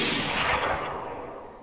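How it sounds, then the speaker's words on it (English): A single gunshot in the video game DayZ, a sharp crack that decays into a short rumbling tail, close and fairly loud. "They're shooting, aren't they?"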